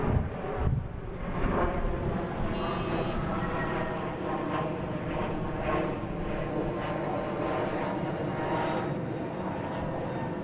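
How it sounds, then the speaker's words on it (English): An airplane passing over Boston Logan International Airport, its jet engine roaring loud and steady throughout as the aircraft flies overhead. "We have a plane up there."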